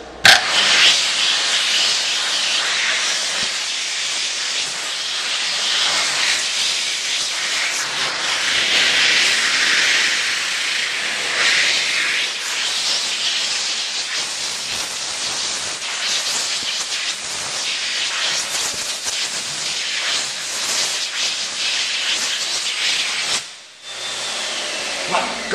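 2014 Excel Xlerator XL-BW hand dryer with a white plastic cover and a .8 nozzle, running in a continuous loud, hissing roar of rushing air for nearly the whole stretch, with a brief dip near the end.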